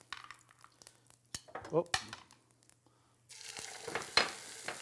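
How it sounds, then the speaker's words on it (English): Fish fillets topped with lemon zest hit hot oil in a pan, giving a brief sizzle with some clinks of utensils and pan, then a steadier searing hiss toward the end, with a short spoken exclamation. "Oh, it's got a nice sizzle to it."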